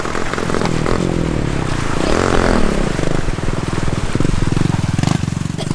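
A trail motorcycle is brought down a bank at a river crossing on the Lumutan trail. Its engine runs close and steady with a rising rev midway, mixed with scraping and clattering from the bike being handled.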